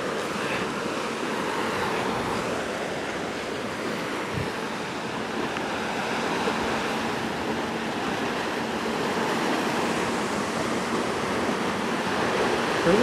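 Ocean surf surging into the rocky inlet of Devils Churn on the Oregon coast, a continuous broad wash of crashing water and spray, steady and fairly close, with some wind buffeting and no talking.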